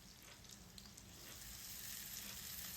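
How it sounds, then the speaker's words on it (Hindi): Chopped onion fries in a few spoons of oil in a frying pan, giving a soft, steady hiss and crackle that swells slightly toward the end, with no speech. "एक फ्राई पैन में 4 से 5 चम्मच ऑयल डालने के बाद उसमें एक कटा हुआ प्याज डाल दें।"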